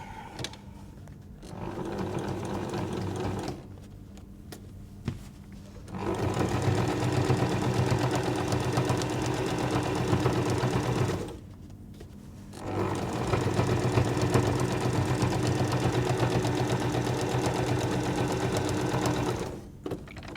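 A sewing machine stitches quilt binding through about four layers of cotton and two of toweling, humming in three long, steady runs broken by brief pauses where the needle stops to pivot.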